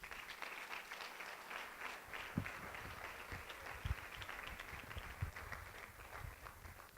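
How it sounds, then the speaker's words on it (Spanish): A church congregation claps together in steady, sustained applause, a dense wash of hand claps filling the whole stretch at even loudness with no voices over it. "Ahora dele un aplauso al Señor."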